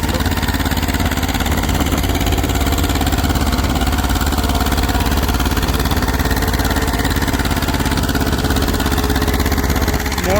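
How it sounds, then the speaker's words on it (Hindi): Tractor engine under heavy load in low second gear during a pulling contest, a loud, continuous, steady chugging drone that stays level throughout. "मोड़ पे आके अब लेने लग रहा है लोड बढ़िया करके ट्रैक्टर।"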